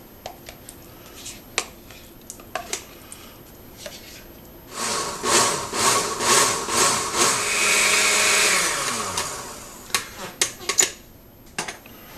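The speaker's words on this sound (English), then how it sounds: "there it is after it's been through the blender" A blender blending Greek yogurt for tzatziki whirs loudly for several seconds, first in short pulses and then a steady run, with scattered clicks and clatter before and after.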